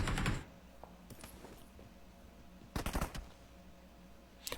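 Sharp bursts of video game gunfire in PUBG Mobile come in short volleys, a loud burst at the start and another midway, separated by quieter background hum.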